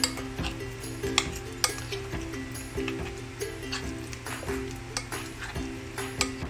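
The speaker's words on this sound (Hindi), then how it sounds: "पनीर को ऐड कर रहे हैं, अच्छे से इसकी कोटिंग कर देंगे।" Paneer pieces being coated in batter in a bowl for restaurant-style chilli paneer, with repeated wet stirring and light clinks of a spoon against the bowl, close and soft, in a steady rhythm.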